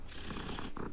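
A low, continuous cat purr, close and soft, rumbling steadily for a brief moment.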